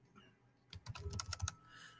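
A short, close burst of typing on a computer keyboard, a quick run of about a dozen key clicks after a brief quiet start.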